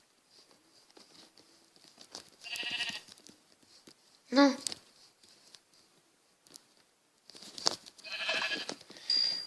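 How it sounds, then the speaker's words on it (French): Several sheep bleat in a Minecraft game, a short loud call standing out midway with fainter blocky bleats before and after, over light game ambience and some talking. "Oh, là-bas, il y a plein de moutons."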